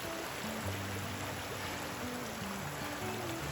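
A creek being crossed on a mountain hiking trail, steady broadband rushing of flowing water, moderately close and continuous, with no voices.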